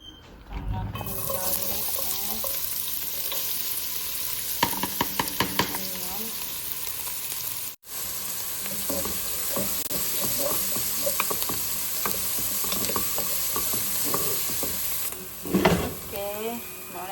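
Onion and garlic sizzle steadily in hot oil in a home kitchen, with a run of stirring clatters partway through and a brief dropout before the frying resumes.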